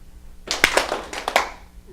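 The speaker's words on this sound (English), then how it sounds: "let me ask you to turn it over and clap the other way" A small audience claps briefly with hands reversed, a short burst of several uneven claps that quickly fades.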